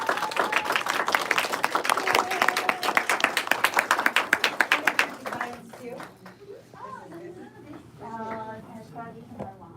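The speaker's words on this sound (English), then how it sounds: "give Tomomi a warm round of applause." An audience claps in a steady, dense round of applause welcoming a guest speaker onto a stage at a conscious-living expo, the clapping fading out after several seconds as a nearby voice starts talking over the quieting room.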